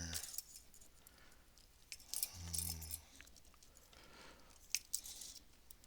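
Flush cutters snipping component leads on a PDP-8/V eight-tube circuit board during soldering work, a few sharp metallic clicks and crunches spread unevenly through a quiet room.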